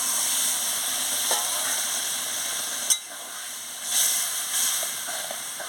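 Water poured into a hot pan of ridge gourd cooked in poppy seed paste, giving a steady loud sizzle and hiss throughout, with a few brief bursts of spattering.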